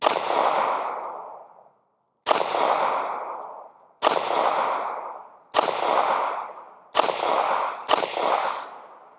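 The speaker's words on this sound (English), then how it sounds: "this is full metal jacket. Let's go ahead and shoot it on that hill target right here" A Ruger LCP MAX pistol fires full metal jacket rounds at an outdoor hill target. Six sharp, loud shots come at irregular intervals of about one to two seconds, each followed by a ringing echo that trails off.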